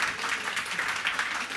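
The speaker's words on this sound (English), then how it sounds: "Please give him a warm applause, Emil." An awards ceremony audience claps for the co-host taking the stage, a steady, fairly soft wash of many hands clapping together, heard on its own without speech.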